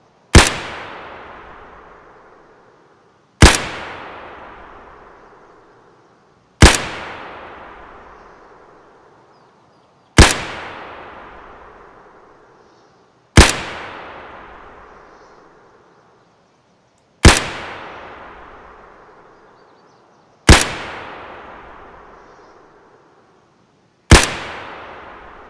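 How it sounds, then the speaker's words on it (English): Rifle shots with PS rounds in Escape from Tarkov, fired at a scope setting of 50: eight sharp single reports at a steady pace about three seconds apart, each one loud and followed by a long decaying tail, with no talk. "we're going to fire at the second line down with the scope set at 50"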